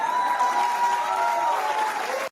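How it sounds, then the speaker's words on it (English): A talk-show studio audience claps and cheers in a dense, loud, steady wash of applause that holds evenly before cutting off abruptly. "the crowd is going wild at all this"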